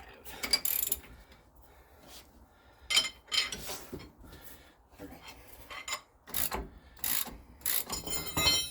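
A ratchet loosens the 35 mm rear axle nut on a 2006-10 Ford Explorer, with repeated bursts of metallic clicking and grinding close by and short pauses between pulls.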